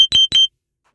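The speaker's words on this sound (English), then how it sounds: "That's my alarm telling me my sugar's up." Two short, sharp electronic beeps from a blood sugar monitor alarm, close and clear, followed by silence.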